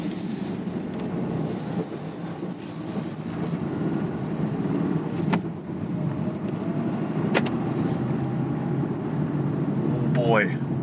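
Ford Fiesta with an EcoBoost engine driving on its first run after an engine install, a steady low engine and road rumble throughout with brief clunks and a squeak near the end.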